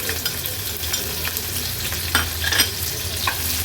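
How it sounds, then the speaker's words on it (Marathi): Onion and garlic sautéing in a little hot oil in a pot over a medium flame, a dense, steady close-up sizzle with faint stirring scrapes and no talking. "गॅसची फ्लेम मीडियमवर ठेवून कांदा तेलावर परतून घेते"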